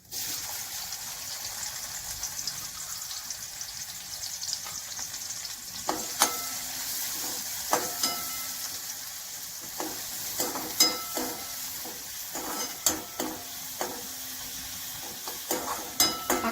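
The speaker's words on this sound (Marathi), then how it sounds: "आता आपण त्याच्यात हा जो बारीक का चिरलेला कांदा आहे तो घालते मी" Finely chopped onion frying in hot oil in a kadhai, a continuous hiss of sizzling with scattered scraping and stirring knocks in the second half, close and steady, no talk.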